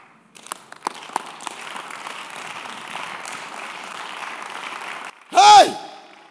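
A church congregation claps in a steady, dense patter for several seconds at moderate level, with a few sharper claps at the start. A loud vocal shout cuts in at the very end.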